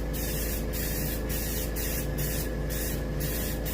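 A small airbrush sprays paint onto a striper (rockfish) fish mount with a steady, continuous hiss. A constant compressor hum runs underneath, and the hiss is broken by regular short pauses.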